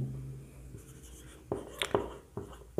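A pen scratches on paper while a polynomial maths problem is written out, with several short, quiet strokes and taps close to the microphone and no talk.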